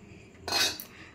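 A spoon scrapes and clinks once against a bowl while mixing semolina with yogurt, a short close stroke in a quiet kitchen.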